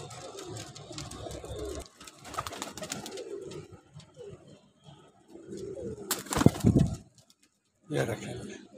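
Pigeons in a loft of breeding pairs coo in low, throaty bursts, close by, with a louder call near the end, interleaved with someone talking.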